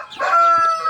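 Brief, close clucking call from a native hen among brooding hens with chicks in a backyard flock, a single short vocalisation heard alone.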